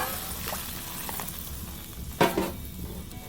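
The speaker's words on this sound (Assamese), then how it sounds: "এতিয়া দৈটো ভাজি হ'ল অকণমান পানী দি লৈছো" Water poured into yogurt frying in a pan for a fish curry, a steady low sizzle that flares into a sharp hissing burst partway through, then settles back to a simmering crackle.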